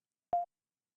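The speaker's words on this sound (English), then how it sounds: "This guy must have studied Morse code." A single short electronic beep, like Morse code, sounds in the Super Nintendo game Illusion of Gaia. The tone is clean and brief, with silence before and after.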